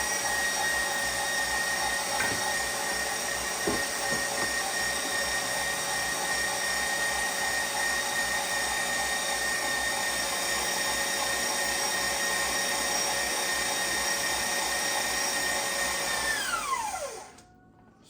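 An electric meat grinder runs while grinding meat, its motor producing a loud, steady whine with a tonal hum for most of the time before winding down and falling quiet at the end.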